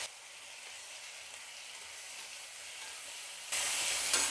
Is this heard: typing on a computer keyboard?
no